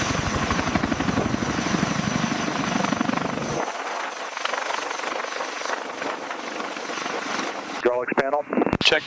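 Engines on the largest US military helicopter spin up as a loud, steady turbine whine with rotor throb, near and continuous, and a brief voice breaks in over the noise near the end.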